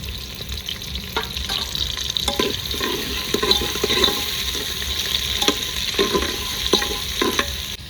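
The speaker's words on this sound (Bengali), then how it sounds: "পেঁয়াজটাকে লাল করে ভেজে নেবো" Onions frying to a reddish brown in a pan, a constant sizzle under brisk scraping stirs of a spatula in an uneven rhythm, close and fairly loud, no voices.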